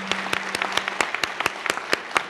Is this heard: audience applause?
yes